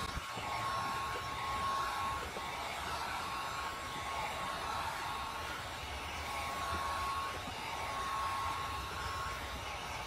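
Heat gun blowing on a car tail light to soften it for opening, a steady, unbroken fan whir with a thin high whine, close and constant for about ten seconds, without talk.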